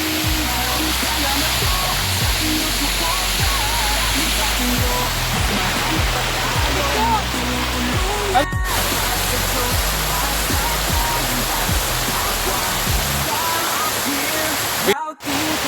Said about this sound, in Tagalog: punta kayo dito sa Encanto Falls